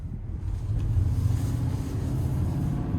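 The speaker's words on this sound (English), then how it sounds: "let's go ahead and take this 2026 GMC Sierra 3500 HD Denali Ultimate out on the road for a" A 2026 GMC Sierra 3500HD Denali Ultimate dually pickup rolls down the road, giving a steady low engine and road rumble with some wind noise and no talking.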